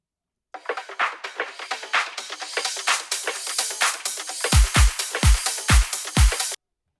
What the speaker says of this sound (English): I have a filter here, which is that kind of filtered